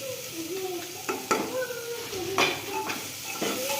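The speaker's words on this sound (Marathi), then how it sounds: "परत एकदा हे सगळे मसाले आपण असे हलवून घ्यायचे." Spices and vegetables for veg pulao are stirred in a pan over low heat: a soft sizzle with intermittent scraping and clinking of a spoon against the pan, close and fairly quiet.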